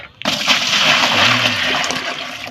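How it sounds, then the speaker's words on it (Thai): Water is poured into a container holding freshly caught goby fish on a night fishing trip. After a sharp click, a loud, close, steady rush of water runs for about two seconds. "ขออนุญาตเอาน้ำใส่ก่อนนะครับผม น้ำใส่ก่อน"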